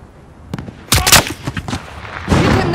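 Gunfire in the Call of Duty Modern Warfare video game, a cluster of sharp, loud shots and booming impacts in quick succession, with a further burst near the end.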